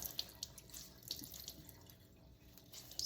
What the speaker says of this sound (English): So you agitate it really good under the water, and if you use hot water, it makes the fibers swell